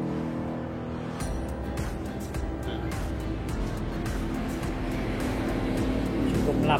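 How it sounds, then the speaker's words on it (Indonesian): ANS intercity bus driving into the hold of a ferry at Bakauheni, one of a convoy of three buses: a steady, loud engine rumble with clanks and knocks echoing inside the ship, continuous throughout. "memasuki lambung kapal penyeberangan di Bakauheni"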